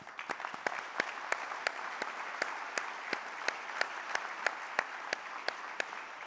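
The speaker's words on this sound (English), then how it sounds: "So please give them another round of applause." Audience at an award dinner applauds with sparse, individual claps sounding in an irregular rhythm, fairly faint and distant in a large room, with no voices on top.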